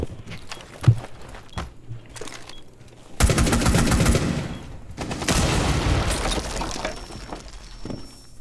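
Gunfire from Blackbeard's weapon in a video game, scattered single shots early, then two long sustained bursts of rapid automatic fire, loud and close, with a faint tone near the end.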